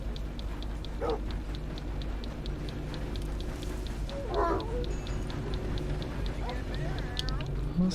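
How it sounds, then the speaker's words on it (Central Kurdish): A dog barking in the video game Red Dead Redemption 2, with a couple of short, sharp barks standing out from a steady bed of game ambience and faint hoofbeat-like clatter. "سەگە واز نایانێت"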